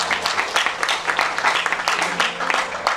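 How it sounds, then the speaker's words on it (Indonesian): Church congregation applauding during a sermon, a lively, uneven burst of many hands clapping with some voices mixed in, lasting about three seconds. "Berikan tepuk tangan buat Tuhan"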